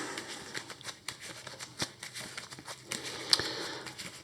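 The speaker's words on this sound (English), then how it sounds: "shuffle the deck" A deck of Marvel Champions game cards is shuffled by hand, giving soft, quick riffling and tapping sounds at close range in a quiet room.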